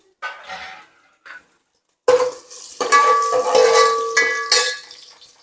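Chopped garlic sizzles and fries in hot oil in a pan for Kannada-style dal pappu, with a few short bursts of sizzling that then give way to steady, loud frying and stirring scrapes.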